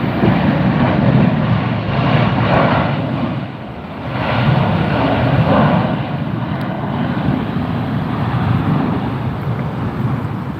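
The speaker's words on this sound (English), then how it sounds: "that's an Aero Mexico flight going out with the Pride livery on it" An Aeromexico airliner departs Las Vegas airport, a broad steady engine roar with wind buffeting, heard from a distance and sustained throughout with no speech.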